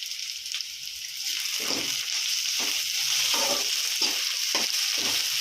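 Pounded ginger and garlic paste sizzles and fries in a pan, a steady close hiss with soft scraping stirs now and then, no voices.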